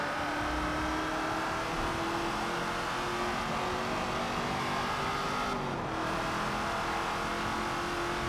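A car engine in Forza Motorsport 7 screams through a night race at high revs, a sustained whining drone with gear-change pitch shifts and a brief dip near the end, steady and loud throughout.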